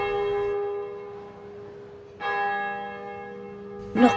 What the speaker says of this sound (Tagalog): Narinig ni Lola Berta ang kakaibang tunog ng kalansing ng mga kampana